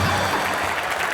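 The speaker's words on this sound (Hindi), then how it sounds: "ठोको ताली।" Studio audience applause on a comedy talk show, a dense burst of clapping filling the room, loud and steady with no voices over it.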